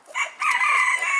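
A small, slender-bodied hen gives a short, close vocalization with a brief call followed by a sustained tonal cluck, alone and fairly loud.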